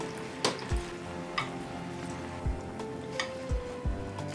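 Boiled potato skins frying in oil, a constant close sizzle with soft stirring knocks and scrapes repeating every second or so, no voices.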